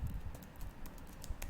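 Computer keyboard keys tapped during a Microsoft Word lesson, a few quiet, scattered clicks over a low background hum, with no talking.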